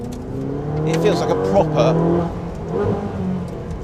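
Inside the cabin of a Ferrari 458 Speciale prepared as a race car, the engine drones and swells steadily while someone talks over it.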